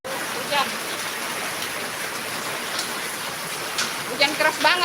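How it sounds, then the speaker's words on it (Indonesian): Heavy rain falls in a steady, dense rush that fills the whole clip, with faint voices rising briefly near the end. "Hujan keras banget nih."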